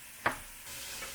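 Chopped vegetables for a lentil loaf get a quick stir in a hot pan, giving a single sharp scrape followed by a steady soft sizzle of frying, close and clear.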